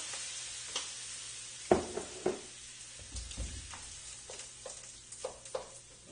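Ham and vegetable stir fry with teriyaki sauce sizzling in a pan, a steady broadband frying hiss broken by several sharp spatula scrapes and clacks as the food is stirred, close and fairly quiet.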